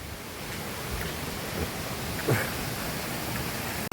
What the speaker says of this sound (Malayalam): ഇതാണ് തോട്